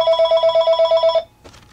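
A telephone bell rings in a rapid, trilling burst for just over a second, loud and close, then stops abruptly, followed by a short, faint clatter.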